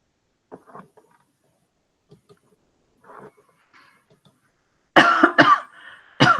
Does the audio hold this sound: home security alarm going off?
no